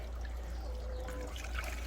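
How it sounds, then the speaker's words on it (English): Water trickles and pours into a chicken water container, a faint steady stream under a heavy low background rumble. "Tip it in there, and then I fill it up with water."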